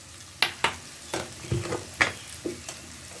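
Tomatoes fry in a pan with a soft sizzle beneath a series of sharp scraping stir strokes, about seven distinct clicks and scrapes spaced irregularly, close and fairly quiet.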